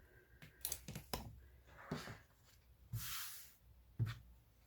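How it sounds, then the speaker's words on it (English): Scissors snip through several stacked layers of cotton and steel fabric being cut into 5-inch squares, a handful of quiet, separate crisp cuts and rustles spaced irregularly, very faint and close. "I'm just going to cut them into 5-inch squares now"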